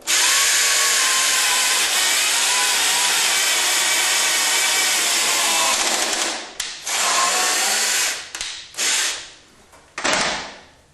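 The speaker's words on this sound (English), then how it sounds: "now we're going to pre-drill a hole for a 5/16-inch carriage bolt" A power drill bores a pilot hole into a wooden garage workbench joint for a 5/16-inch carriage bolt, a loud steady whine for several seconds, then a few short bursts of the drill starting and stopping.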